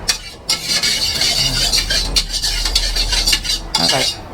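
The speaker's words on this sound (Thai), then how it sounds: "ผัดเส้นซะก่อน ให้เป็นสีดำ" Metal utensil scraping and clanking against a wok in quick, irregular strokes as noodles are stir-fried, loud and close.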